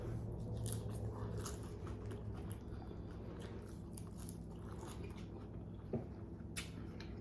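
Tortilla chips eaten alongside a Chipotle chicken bowl with lettuce, salsa, rice and beans, crunched in close, quiet repeated bites and chewing.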